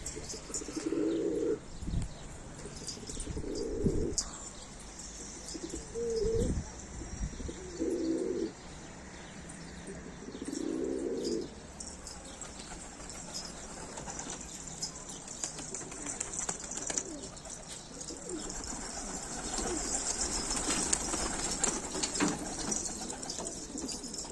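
Pigeons on a rooftop give repeated low cooing calls in separate bursts, close and clear, with wing flaps and brief chirps breaking in later.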